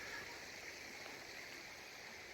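The Guadiana River flows beside Jimera de Libar train station, a faint, continuous rushing of water with a soft, even hiss and no distinct splashes.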